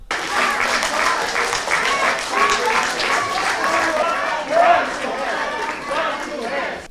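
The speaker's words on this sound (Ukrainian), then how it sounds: "інші проводили їх оплесками" Applause at a public hearing on street renaming, uneven clapping mixed with crowd chatter, voices and shuffling movement as people leave the hall.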